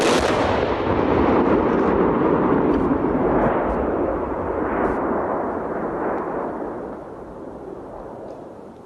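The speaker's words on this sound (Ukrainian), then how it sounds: "Здійснили контрольований підрив ракет." Controlled detonation of rockets by bomb disposal experts: a loud, sustained explosive roar that rumbles on for several seconds and slowly fades, with crackling debris noise and no voices.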